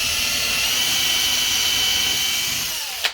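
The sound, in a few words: drilling with a 2.5mm drill bit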